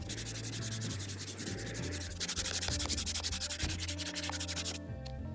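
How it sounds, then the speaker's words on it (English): Sandpaper, 80 grit, rubs steadily over a plastic chair being restored, making a continuous, close, rasping scrape with a rhythmic back-and-forth stroke and no talk. "So again, just 80 grit sandpaper first."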